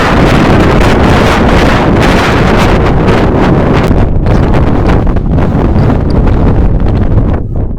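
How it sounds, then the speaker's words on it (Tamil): Strong wind roars steadily at a rocky hilltop viewpoint in Abbanur, Attapadi, buffeting the microphone with loud, continuous gusty rumble and no voices. "அப்போ நீங்களும் பாருங்கள் காற்று எந்த அளவுக்கு வருதுன்னு."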